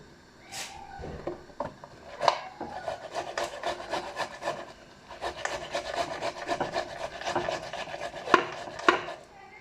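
Tomatoes are rubbed quickly against a hand grater in a home kitchen, giving a close run of rhythmic rasping strokes with brief pauses and a few clicks, and no talk.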